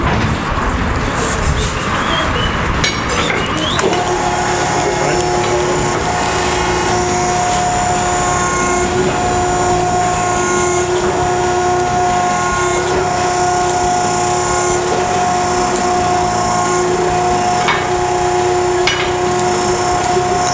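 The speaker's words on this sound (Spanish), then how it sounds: "como es una muy gruesa, sí vamos a proceder a usar la prensa" A hydraulic press working a thick vehicle leaf spring in a workshop, giving a sustained loud mechanical drone with steady tonal hum and occasional metallic knocks throughout.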